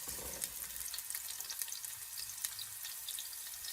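Chopped red onion sizzles in hot vegetable oil in a pan, a steady crackling fry with dense little pops throughout, close and fairly quiet, with no talking over it.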